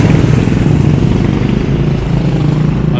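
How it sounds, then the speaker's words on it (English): Quad bikes on a Birmingham street rumble past close by, a loud continuous engine drone with clattering, with no talk over it. "On their quad bikes."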